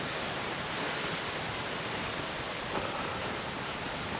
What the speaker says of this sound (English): Love the sound of running water on a hillside.